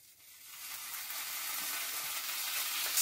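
Onions and green chillies sizzle and fry in hot oil in a pan, a steady bright crackle that builds slightly and holds, close and alone with no talk.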